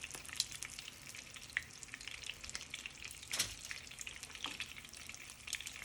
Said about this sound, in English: the grease will get in there with the meat and pop at you